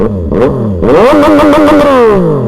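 A loud, modified 2026 CFMOTO 675 SR-R sport motorcycle engine revs hard up close in first gear, rising sharply in pitch, holding high, then easing down, after a brief blip at the start.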